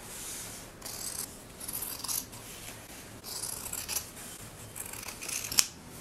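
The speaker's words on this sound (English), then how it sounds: "So just make a little snip," Scissors snipping through the denim sleeve of a jean jacket, a series of close, crisp cuts in irregular bursts with small rustles of fabric between them, quiet and without talk.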